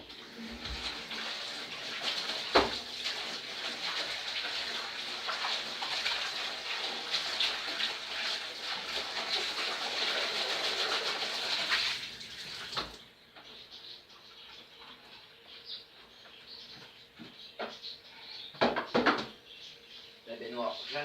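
Water runs from a tap into a bathtub as an aquarium is washed, a steady rushing stream for about twelve seconds, then quieter splashes and knocks with a few sharp clatters.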